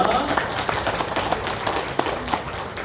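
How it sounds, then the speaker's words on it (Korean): Church congregation clapping together after a benediction, a dense patter of hands that stays steady and moderately loud over the short stretch, with voices mixed in underneath. "오늘 하나님 앞에 영광의 박수 올려드리겠습니다"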